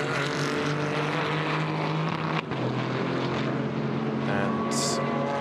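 A BMW GT4 race car at the Nürburgring drones past at a distance, a steady engine tone with a brief dip midway, under a commentator's voice.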